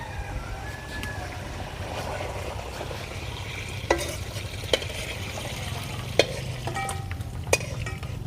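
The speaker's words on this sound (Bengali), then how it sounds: "দেখো মশলাটা কষিয়ে ঝোলটা ফুটে উঠেছে" Red bhola fish curry bubbling in a pan over a village-style fire, a steady low simmering and faint sizzle with a few sharp clinks of a utensil against the pan.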